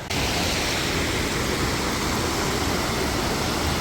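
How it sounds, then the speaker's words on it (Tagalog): A waterfall roars as a broad, steady rush of falling water, loud and close, continuing unchanged without talk. "Eto na siya! Falls!"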